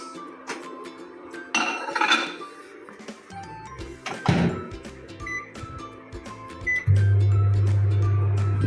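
Clinking of dishes and a door click, then a microwave heating soap on a plate switches on with a steady low hum.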